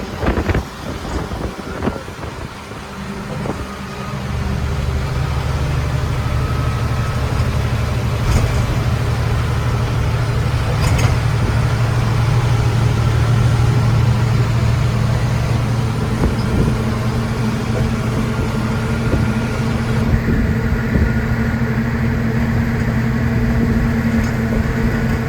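A heavy truck engine idling and revving steadily while the vehicle reverses, a loud continuous low rumble near the microphone with wind buffeting, on a Mumbai to Mangalore trip with no handbrake.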